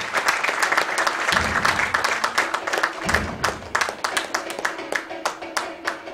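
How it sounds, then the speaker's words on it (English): A live audience gives chef Sanjeev Kapoor a long round of clapping and cheering at a Wonder Cook cooking event, dense and steady throughout, with a few louder crowd swells. "let's give a thundering round of applause for Chef Sanjeev Kapoor"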